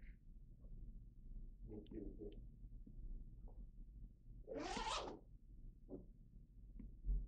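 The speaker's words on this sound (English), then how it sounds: "I forgot, you have to have it zipped up." An Alpinestars Tech Air race suit being zipped up, with one quick, close zip rasping mid-clip against a quiet room hum and no talking.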